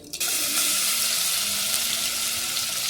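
Cumin seeds drop into hot oil in a pan for a vegetable curry, giving a loud, steady, close sizzle and hiss that bursts in at the start and holds evenly throughout.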